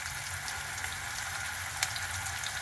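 Curry leaves crackle and sizzle in hot oil for dal dhokli, a dense, continuous frying hiss with one brief sharper pop, close and without any talk.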